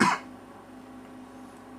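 A single sharp cough right at the start, close and loud, followed by quiet room tone.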